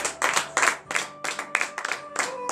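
A church congregation at a morning prayer service in Benin claps in rhythmic bursts, the uneven clusters of hand claps close and lively with faint voices underneath.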